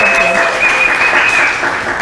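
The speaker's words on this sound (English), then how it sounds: "Everyone clap for Tanya." A room of people at an outreach session applauds a presenter, a short burst of loud, dense clapping filling the space, with a high steady tone running through it.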